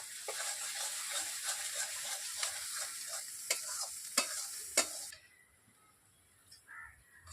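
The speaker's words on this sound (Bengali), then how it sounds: "এবারে আবার কিছুক্ষণ নেড়ে নিচ্ছি" Steady frying sizzle with repeated scraping stirs of a spatula through pointed gourd mash with coriander leaves in a pan, a few sharp clinks, then the sizzle drops away into near quiet.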